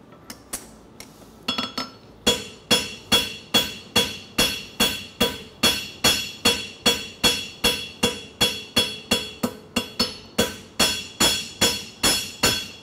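Steady metallic hammer blows ring out on a steel horseshoe clip, a fast even rhythm of sharp clanging strikes, loud and close, after a few scattered taps at the start.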